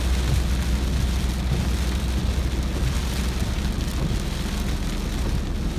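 Rain drumming on a moving car, a loud, dense, steady hiss and patter over a low rumble of road and engine noise, continuous and close for the whole stretch, with no voices.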